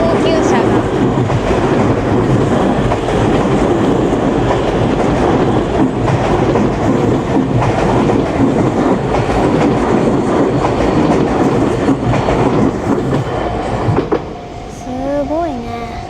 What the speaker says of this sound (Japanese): こちらは東急車が